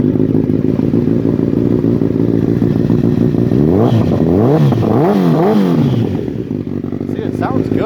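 A 2014 Honda CBR1000RR SP sportbike with about 23,000 miles fires up and settles into a steady, loud, close idle, then takes several quick rising and falling throttle blips before easing back down.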